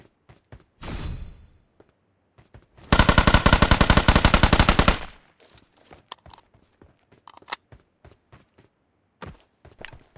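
Rapid automatic gunfire in PUBG Mobile, one short burst and then a sustained two-second stream of shots, with scattered single cracks and footsteps around it, fairly loud with no talk.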